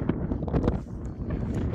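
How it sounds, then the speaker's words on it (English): Wind buffets across an open Pennine fell top in a steady, close rushing roar with uneven gusty swells, loud and unbroken for a brief moment. "Many will know it's famously windy up here."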